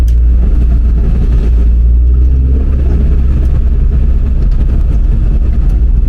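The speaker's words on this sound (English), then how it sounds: "we go over this ramp and we stick our foot on it for a second" A Mini fitted with a Honda K20 VTEC engine accelerates hard over a ramp in a laneway once warmed up, a loud, close, continuous engine roar that stays steady throughout with no talking.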